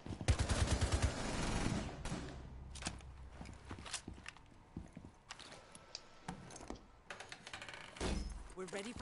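Gunfire in Rainbow Six Siege, sharp shots and short bursts scattered between footsteps and mechanical clicks, mostly distant with a louder volley at the start, with voices talking.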